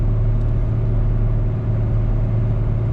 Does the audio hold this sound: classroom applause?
no